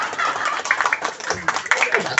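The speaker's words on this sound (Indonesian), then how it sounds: "Ngan 10-an tepuk tangan aja." Clapping from the audience at a Sundanese Islamic study gathering, a brisk, uneven patter of hands under ongoing voices, fairly close and lasting about two seconds.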